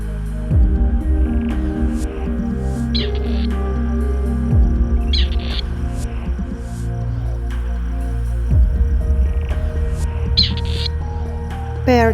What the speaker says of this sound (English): Partridge.